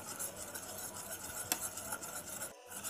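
A spoon stirs instant coffee powder into a tablespoon of hot water for a black forest cake, a steady close scraping and clinking running almost without pause, with one sharper tap midway and a brief stop near the end.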